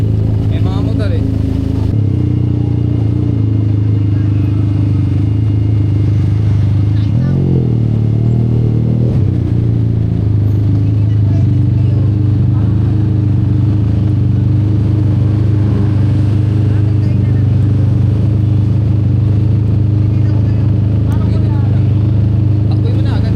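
Motorcycle engines idle and rumble steadily close by on a street for the whole stretch, with a low drone and a brief surge near the middle, while people talk over them.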